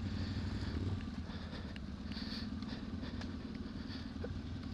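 A cold KTM off-road motorcycle engine runs at a steady low idle, a continuous fairly quiet rumble outdoors on a trail with no talk and faint background noise.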